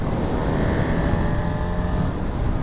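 A Honda Hornet SP motorcycle engine drones loudly and continuously under load while shifting gear with a quickshifter, a steady buzzing tone close to the rider.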